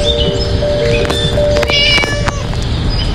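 A cat meows repeatedly in a video game, several loud, close electronic-sounding meows over background game sounds and faint talk.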